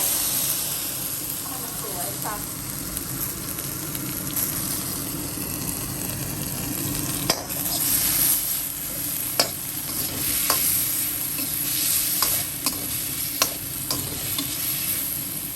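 Red chili paste with shallots stir-fried over medium heat for a Thai chili dip, giving a steady close sizzle with intermittent scraping and tapping from the spatula, while someone talks over it.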